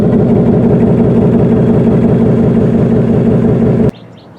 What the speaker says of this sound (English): That throaty exhaust might be a hint as well.